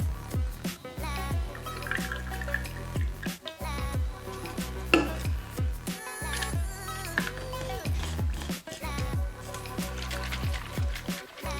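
Self-tanning water solution being stirred and mixed in a container, with soft repeated sloshing, clinking and dripping of liquid at a close, fairly quiet level, steady and rhythmic throughout.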